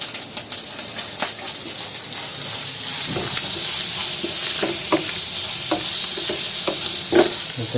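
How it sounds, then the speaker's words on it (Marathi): Grated carrot and ginger fry in a hot pan while being stirred, a steady close sizzle that swells after a few seconds, with scraping spoon strokes breaking through now and then. "आता जरा फ्राय करायचं चांगलं एक मिनिट चांगला फ्राय करायचं आहे"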